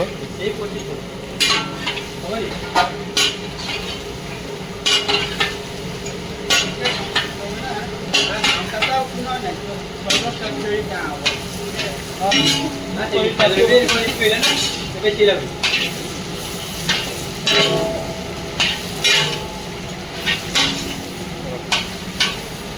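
Potatoes frying in a pot for a Christmas feast, stirred with a utensil that clinks and scrapes in irregular bursts over a steady, close sizzle.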